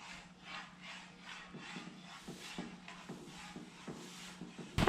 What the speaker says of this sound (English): we're gonna do a real light sanding on some of these boards